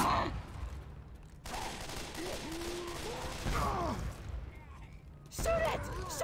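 Gunfire aimed at the Tank in Left 4 Dead 2, rapid bursts of shots running through most of the stretch, loud and close, with excited voices shouting over the battle.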